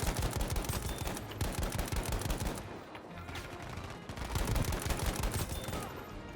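Dense, loud bursts of automatic gunfire in a video game rattle on almost continuously, easing briefly mid-way before the rapid volleys pick up again.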